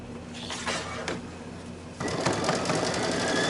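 A sewing machine stitching a quilted bunny mug rug runs steadily, its motor whir and rapid needle clatter growing louder and busier partway through, heard up close with no talk.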